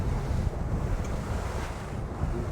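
Ocean waves and strong wind buffet a commercial stone crabbing boat on rough water, a loud, steady roar of surf and wind noise hitting the microphone, with no talking.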